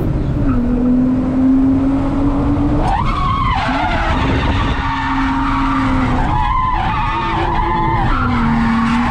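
Race car lapping a circuit in an SA state series round, onboard: a steady engine drone with repeated loud tyre squeals and skids through corners, several bursts over the lap, no talk.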